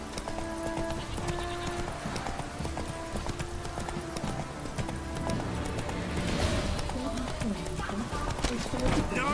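Horse hooves clip-clop at a gallop in The Witcher 3 on Xbox Series X, a steady rapid beat under game music, with a brief whinny and voices in the game.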